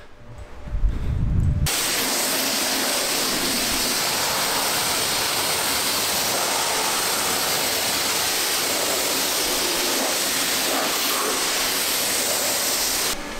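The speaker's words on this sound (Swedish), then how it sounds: "spolar av bilen då, så spolar jag nerifrån och upp gör jag." Water sprays against a camper van during a wash, rinsing it from the bottom up. After a short quiet opening, a loud, dense, even hiss begins abruptly and runs unbroken to the end.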